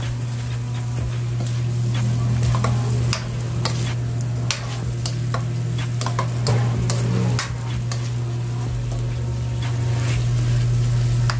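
Chicken and sliced mushrooms stirred in a frying pan, a steady sizzle with a low hum beneath and repeated light clicks and scrapes of the utensil against the pan.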